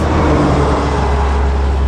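Cars passing on Highway 44 beside a lake, a steady, loud, close wash of tire and engine rumble with no break and no voices.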